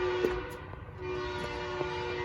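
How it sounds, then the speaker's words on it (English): A train passes at a distance with a steady rumbling roll and faint horn-like tones running through, quiet and continuous, no voices present. "Sounds like a train going by."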